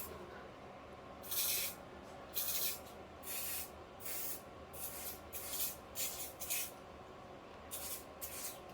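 Non-stick cooking spray sprayed into the bottoms of a muffin tray in about nine short, close hissing bursts, some quick pairs, over a quiet room background.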